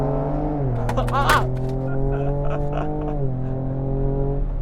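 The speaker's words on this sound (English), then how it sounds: "Whoop, little wheel spin." A 2024 Ford Ranger Raptor launches hard in sport mode from a brake-held standstill, its engine roaring up steadily with a brief chirp of tyre spin early on, loud and close from inside the cab under an excited voice.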